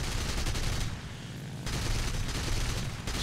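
Continuous aircraft cannon and machine-gun fire from an FW190 A-5 fighter in War Thunder, loud dense rattling bursts with a short lull in the middle before the firing resumes.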